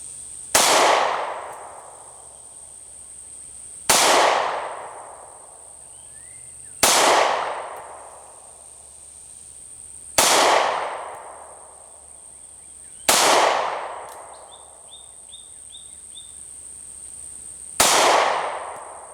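A Taurus GX4 pistol fires single shots outdoors, six sharp reports spaced roughly three seconds apart, each loud and close with a short decaying ring afterward.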